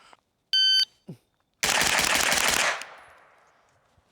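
AR-style rifle with a Milspec trigger firing a rapid string of shots outdoors, a dense burst of about a second after a short electronic beep, with the reports ringing off into a fading tail.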